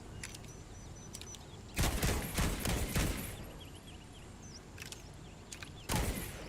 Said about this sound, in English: Gun sounds fine, right?